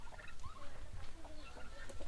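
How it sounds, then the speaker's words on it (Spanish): Poultry calls on a Mexican ranch, taken as the flock's single rooster kept among the hens; repeated short clucking and gobble-like bird calls sound close and moderately loud over steady low outdoor rumble, with no talking. "Este es el gallo."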